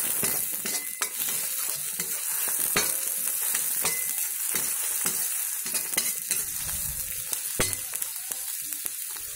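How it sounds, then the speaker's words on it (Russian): Champignon mushrooms and chicken stirred and frying in a cauldron over a campfire, with a steady close sizzle broken by repeated scraping strokes of a utensil against the metal. "Добавляем сюда грибочки, шампиньоны. Также мешаем, все обжариваем."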